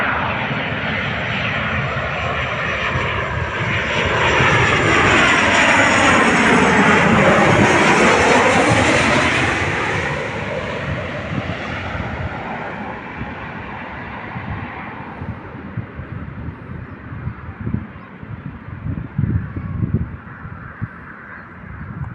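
A passenger airplane comes in to land, its loud engine roar swelling and sweeping in pitch as it passes close overhead, then fading into rumbling, gusty noise as it touches down, with no voices.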